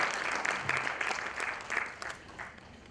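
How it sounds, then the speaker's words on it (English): Audience applause welcoming Mr. Sunil Goyal at the inaugural session of an alumni conclave, a steady roomful of clapping heard at some distance and fading slightly toward the end. "Let's give him a round of applause and welcome Mr. Sunil Goyal"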